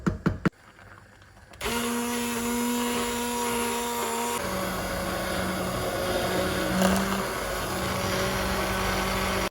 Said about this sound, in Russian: Теперь можно пропустить джем через блендер.